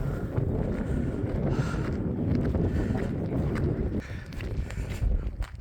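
Gusty wind on a mountain climb buffets the microphone with a heavy, rumbling roar that rises and falls, easing slightly near the end.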